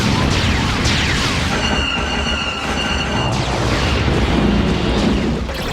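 Rapid sci-fi blaster fire from an AT-TE walker tank mixed with booming explosions, a dense, loud, continuous barrage of zaps and blasts crashing together throughout without pause.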